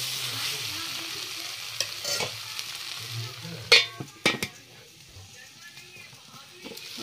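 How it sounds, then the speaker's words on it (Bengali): Potol and potato curry sautéed with garam masala and meat masala in a pan, with steady sizzling and frying as a spoon scrapes and stirs, punctuated by a few sharp clinks. "মশলা এটার ভিতরে ঢুকছে একদম কষানি, ভালো করে কষাইছি।"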